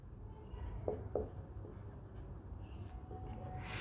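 Chalk or pen writing on a classroom board, a quiet scratching with two short sharp strokes near the start over a low hum, faint and close.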